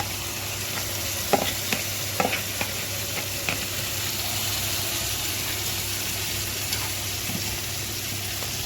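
Tomatoes fry in a pan for Egyptian moussaka, giving a steady close sizzle with a few sharp scraping knocks of stirring early on, then a smoother hiss.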